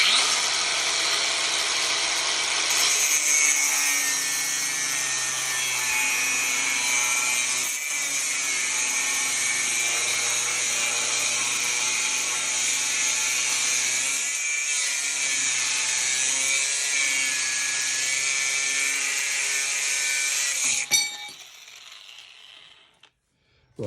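An angle grinder running without a guard cuts through a metal awning bracket, a loud continuous high-pitched whine with slight pitch dips as the disc bites, lasting about twenty seconds before spinning down and stopping.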